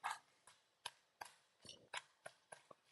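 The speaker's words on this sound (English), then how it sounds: "I'll just got some peanuts. Same again, I'll just chop those up" Peanuts are roughly chopped with a knife on a board, about eight crisp close thuds spaced in an uneven steady rhythm, quiet and with no talking.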